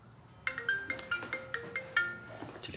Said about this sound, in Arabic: التليفون ديالو كيسوني